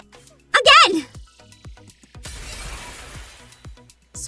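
Glass shatters with a bright crash in the video game Goddess of Victory: Nikke, a long scattering spray of shards following an earlier sharp game effect.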